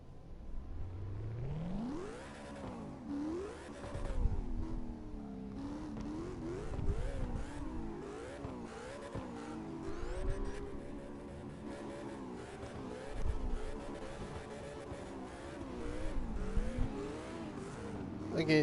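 A drift car's engine in CarX Drift Racing revs hard and keeps rising and dropping in pitch as it slides, with tire scrub between throttle bursts. The loudness swells in waves throughout.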